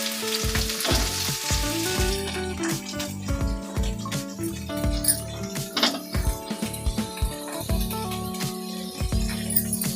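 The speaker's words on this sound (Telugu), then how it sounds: "ఇప్పుడు ఎర్రగడ్డలు వేగింది, దాంట్లో వంకాయ వేసుకుంటాము." Eggplant frying with onions in a pan for vangibath biryani, a steady close sizzle broken by clinking and scraping of a spoon against the metal pan, with no voice.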